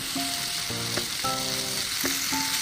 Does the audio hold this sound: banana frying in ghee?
yes